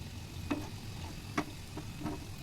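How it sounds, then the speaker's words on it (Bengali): A vegetable Mughlai paratha fries slowly in a pan, giving a soft, steady sizzle with a few light crackling pops at irregular moments, quiet and close. "ধীরে ধীরে ভাজলেই পুরাটা ভাজা হবে"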